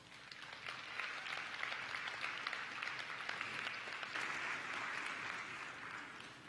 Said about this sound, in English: Let's give a round of applause to the newsroom staff for their hard work and dedication